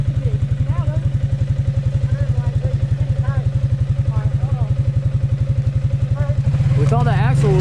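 A vehicle engine drones steadily with a rapid, regular pulsing as a tire spins uselessly on ice during an ice storm, the pitch lifting briefly at the end as the gas is pushed.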